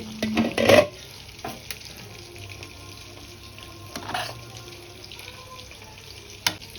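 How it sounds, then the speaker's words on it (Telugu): Chicken frying in a pan makes a low, continuous sizzle, opened by a loud clattering scrape and broken by a few lighter knocks and a sharp tap near the end, with no voices. "ఇక్కడ చికెన్ కూడా ఫ్రై అవుతుంది"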